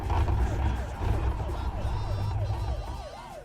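Police and fire truck sirens wail in Euro Truck Simulator 2, several rising-falling tones repeating steadily over a loud engine rumble, near and continuous throughout.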